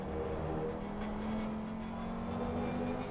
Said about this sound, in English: I'm just listening to the Audi, and the Audi just sounds very nice.